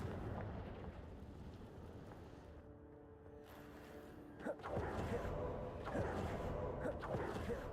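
Confringo fire spells burst in Hogwarts Legacy, several sharp blasts landing irregularly over a constant, rumbling game backdrop with a few closely spaced booms.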